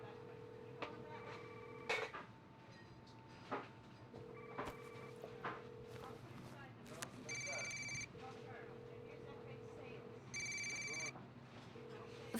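A telephone rings during a call in the video game Law and Order: Legacies, steady repeated electronic ring tones with short gaps between them, beneath voices speaking.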